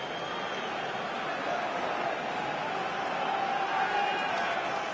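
Rugby stadium crowd roaring as Munster score a try against Sale, a broad sustained wash of cheering heard at a distance beneath commentary.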